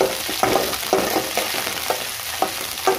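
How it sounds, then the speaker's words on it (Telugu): Green chillies fry in a pan with a continuous close sizzle, broken by a few scraping stirs of a spoon at irregular intervals. "ఇందులోనే ఇప్పుడు పచ్చిమిరపకాయలు వేసుకోవాలి"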